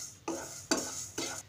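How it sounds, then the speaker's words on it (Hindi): Fenugreek seeds roasted over medium flame in a pan for red chili pickle, stirred in three separate quiet strokes, each a short scraping swish with a faint sizzle, heard close with gaps between. "मेथी को भी हम मीडियम फ्लेम पर ही भूनेंगे।"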